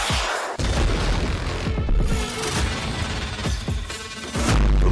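Missile strikes explode in Ukraine with heavy booming blasts and crashing debris, a dense, loud, continuous barrage with repeated impacts and a final deep boom.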